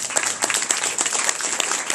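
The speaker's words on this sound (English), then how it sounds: "So everyone give him a round of applause." Audience applause after a neurobiology presentation styled as a game show, brisk close clapping with individual hand claps distinct in a quick, uneven rhythm from a small room crowd.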